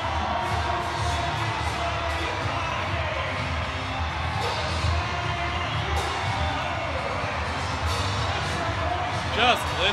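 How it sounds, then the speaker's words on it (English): A packed arena crowd cheers loudly through the tense final seconds of an NBL Canada basketball game between London Lightning and Windsor Express, a continuous dense roar with shouts, whoops and a brief louder burst at the end. "Just listen to that crowd."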